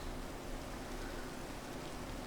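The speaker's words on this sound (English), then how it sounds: "whilst the rain patters down upon the earth" Rain patters steadily down on the ground at night in MistyLife, a soft, even hiss of drops with no breaks and nobody speaking.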